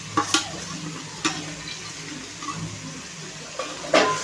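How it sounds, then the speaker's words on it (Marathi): Ground paste of onion, coconut, ginger, garlic and coriander frying with spices in a pan for a Maharashtrian bhogi vegetable dish, giving a low steady sizzle broken by a few sharp stirring clinks and scrapes. "वाटणही छान परतून घ्या"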